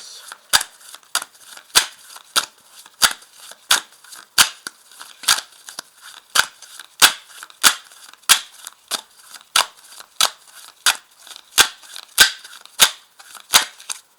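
Tarot cards handled one by one and set down, crisp regular snapping clicks close by, roughly every half second, steady throughout.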